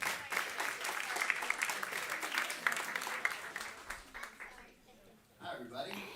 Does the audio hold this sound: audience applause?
yes